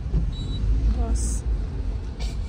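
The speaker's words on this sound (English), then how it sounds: "That's a trash truck." A trash truck drives past on a road in Bali, with a low, rumbling engine sound under people talking nearby.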